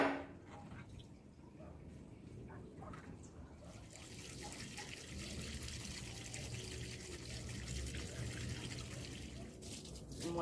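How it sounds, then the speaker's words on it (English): Water runs steadily from a tap over homegrown peanuts as they are washed, a continuous close trickle and splash with faint voices in the background. "I'm washing peanuts."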